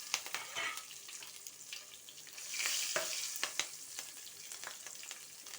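Green chilies and dried red chilies hit hot oil with crackled tempering seeds, giving a steady close sizzle broken by sharp spatula scrapes and clicks of stirring, with a brief louder hiss swelling midway.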